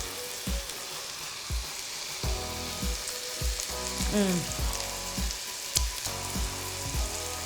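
Beef kebabs frying in a pan, giving a steady sizzle and crackle with scattered pops and intermittent clinks and thuds over a low humming tone.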